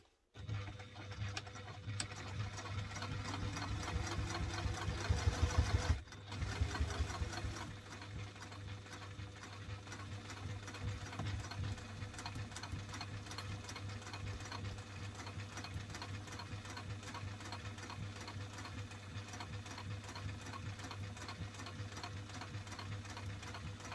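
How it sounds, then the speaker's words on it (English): A sewing machine runs steadily while stitching a bowler bag, a close, continuous whirring drone with a brief pause early on and an even mechanical chatter throughout. "I'm going to up my stitch length"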